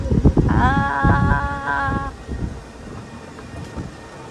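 Wind rushes and buffets the microphone while riding in a moving vehicle, with a low rumble beneath and a brief horn-like tone early on.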